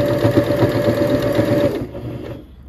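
A sewing machine stitches a fleece jester hat, its fast, even whirring chatter running steadily close by, then slowing and trailing off near the end.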